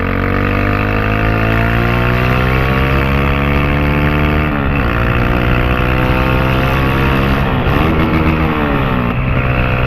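A motorcycle that misfires badly, fitted with a new tin exhaust tip, revs loudly and steadily up close, its rasping engine note rising and dipping in pitch with brief drops around the middle, and no voices.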